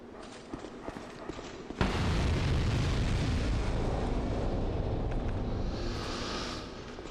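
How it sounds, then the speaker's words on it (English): An explosive barrel blows up in Dark Souls 2, a sudden loud burst that gives way to a long, dense roaring rumble which fades slowly. "push the barrel off to cause a massive explosion"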